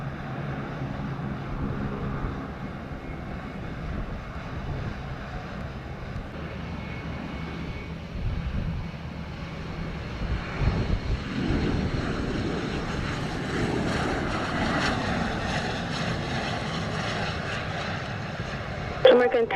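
An airplane lands on runway 07 at Montego Bay, Jamaica, with a steady, distant engine roar that swells and thickens toward the end over constant background rumble.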